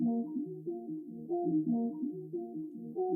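An unprocessed green monster texture sample used in an experimental dark production plays alone as a low, droning tonal loop, its stacked pitches shifting in a slow repeating pattern roughly every second with a steady, moderate level.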